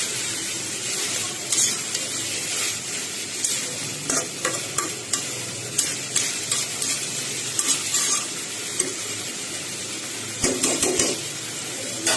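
Dried fish cooks with vegetables in a pan, with continuous nearby sizzling broken by repeated scraping stirs of a spatula against the metal, louder in a burst near the end.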